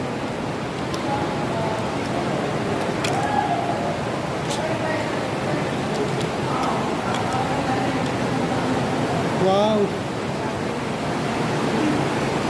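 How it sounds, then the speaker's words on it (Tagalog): Water rushes continuously inside Tinipak cave, a broad steady roar filling the space from start to finish, with faint voices and small echoing sounds over it. "Naririnig nyo na yung lagaslas ng tubig"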